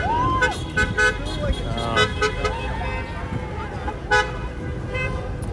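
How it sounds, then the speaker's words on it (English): Car horns honk repeatedly at a SAG-AFTRA strike on a busy street, with short toots and longer blasts scattered among traffic noise and people talking nearby. "All the honking."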